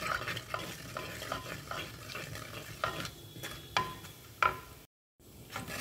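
Fennel seeds, dried chillies, cloves and cinnamon sizzle in hot oil while a spoon stirs and scrapes the pan, with crackling pops and metallic taps over a steady fry and a brief silent gap.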